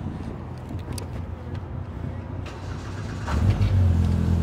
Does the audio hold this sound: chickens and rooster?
no